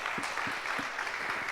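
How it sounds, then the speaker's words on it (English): Audience applause for a guest speaker at a public conversation event, a steady wash of clapping with occasional low thumps throughout a short stretch. "A round of applause for him,"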